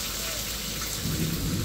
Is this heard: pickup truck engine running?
no